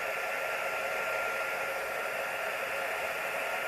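Compressed air blown to clear wet resin from a geode-shaped coaster mould: a steady, loud hiss of rushing air, unbroken for several seconds with no voices.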